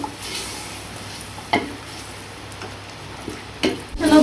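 Boiled meat frying in a pot, with a soft sizzle under a few sharp clinks and scrapes of a spoon stirring it, no voices.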